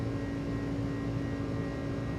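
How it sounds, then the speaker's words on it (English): An iniBuilds A300 jet in Microsoft Flight Simulator 2020 climbs out after takeoff, its engines giving a steady, loud, tonal droning buzz with layered harmonic whine, continuous and unbroken. "I love that buzzsaw sound. Man, this plane sounds good."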